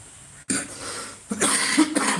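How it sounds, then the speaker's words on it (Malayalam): A person coughs twice indoors in a home kitchen while making vanilla chocolate cream cupcakes, two close, fairly loud bursts separated by a brief pause. "ചുമ വന്നു കേട്ടോ"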